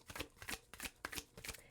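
Tarot cards are shuffled in quick riffling bursts, a close, soft papery flutter repeating in an even rhythm with no voices.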